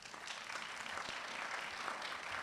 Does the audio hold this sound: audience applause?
yes